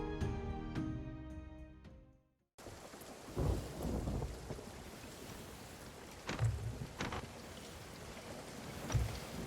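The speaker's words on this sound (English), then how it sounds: "Storms, the bane of almost every pirate on the seas." A thunderstorm at sea in the Sea of Thieves pirate game, with steady rain hissing and several low thunder rumbles rolling in over the downpour.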